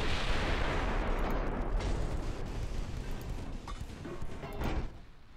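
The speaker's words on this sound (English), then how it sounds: "Ammo detonation." Ammunition detonating aboard a battleship in a naval video game: a loud, sustained roaring blast with dense crackle and rumble that holds for several seconds, then drops away near the end.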